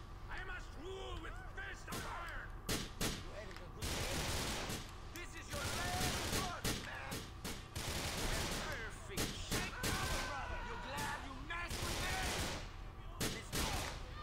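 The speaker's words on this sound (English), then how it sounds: "I see he's shooting at me." Bursts of rapid gunfire crackle through a Grand Theft Auto IV shootout, repeated volleys and single cracks filling the scene, with voices talking intermittently over it.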